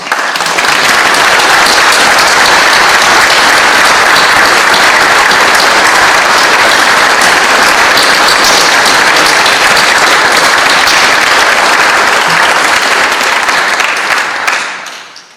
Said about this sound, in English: If you would like to give them one more round of applause acknowledging that, please.